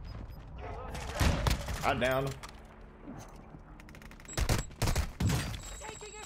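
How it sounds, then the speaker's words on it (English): Bursts of gunfire in a first-person shooter video game, with loud, clustered shots in a few separate volleys, some near and sharp. Mechanical clatter accompanies them, and a player speaks briefly. "Taking effective fire."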